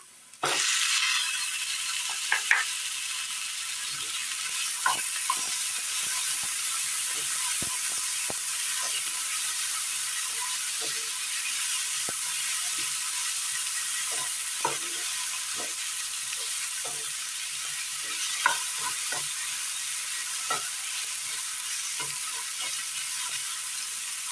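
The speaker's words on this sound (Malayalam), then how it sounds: "ഈ സമയം ഇതിലേക്ക് തക്കാളി ഇട്ട് കൊടുക്കാം." Chopped tomatoes are added to softened onions in a hot pan and sauté with a loud, continuous sizzle. Scattered spatula clicks and scrapes sound through it for a long stretch without speech.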